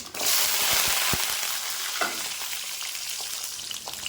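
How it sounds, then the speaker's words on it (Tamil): Cumin seeds, fenugreek and garlic splutter in hot oil, opening with a few sharp pops and then settling into a loud, even hiss that fades slightly, close up with no talking. "எல்லாம் பொறிஞ்சிட்டு இருக்குது"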